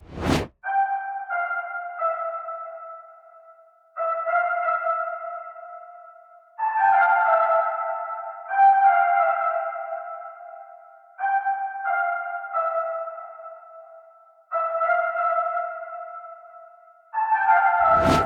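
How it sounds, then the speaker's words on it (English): A smooth synth lead from a Lead Vox preset plays a slow counter melody of sustained tones, phrases starting and fading in turn, clear and alone in a soulful hip-hop beat. "I got this lead preset from Splice. The preset is called the Lead Vox type"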